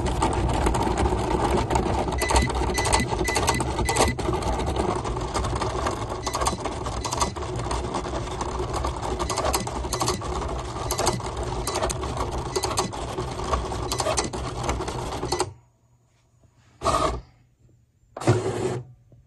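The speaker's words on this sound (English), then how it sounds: "let's see how these tiny signature lines do matless with our Cricut Explorer 3" Busy mechanical whirring and rapid stuttering clicks of a Cricut Explore 3 cutting machine cutting small signature lines in vinyl without a mat, running steadily for about fifteen seconds, then stopping with a couple of brief motor bursts.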